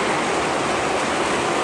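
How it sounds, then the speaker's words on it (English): Heavy rain pouring down outdoors, a dense continuous hiss and rush with no breaks, steady and fairly loud throughout, with no voices over it. "It's pouring outside"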